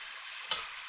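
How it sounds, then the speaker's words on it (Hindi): Tomatoes with garlic-ginger paste and whole spices frying in a pan for vegetable pulao, a steady sizzle broken midway by one sharp stirring scrape, close and alone. "टमाटर डाल के भूनेंगे थोड़ा सा।"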